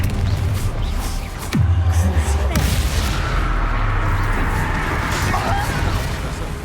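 In the Hogwarts Legacy video game, a Confringo blasting spell explodes with a couple of heavy, booming blasts and a rolling rumble, loud and close, with game audio continuing underneath.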